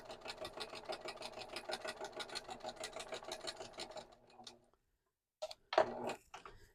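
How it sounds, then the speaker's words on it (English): A sewing machine running a line of double-needle stitching on a fabric scrap, a fast, steady ticking rattle for about four seconds that then stops, followed by a few short handling knocks. "So I am just going to go ahead and stitch my line of double stitching with my needle."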